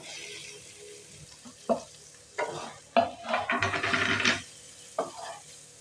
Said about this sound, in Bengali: ভালো করে কষিয়ে নেব মানে ভালো করে মিশিয়ে নেব মশলার সাথে সবজিগুলো